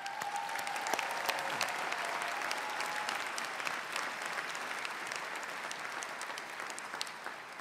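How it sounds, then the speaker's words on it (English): Sustained applause from a large audience in an arena at a 2023 University of Maryland, Baltimore commencement, a dense steady clapping texture heard from afar and fairly quiet, with no talk on top. "I think a round of applause is more than fitting for having endured this."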